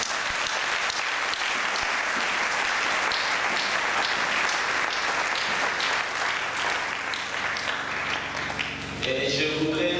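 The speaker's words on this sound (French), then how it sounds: "Est-ce qu'on peut acclamer le Seigneur pour cela?" Church congregation applauding in a continuous, dense wash of clapping that fills the room, loud and steady throughout, with music beginning to rise underneath near the end.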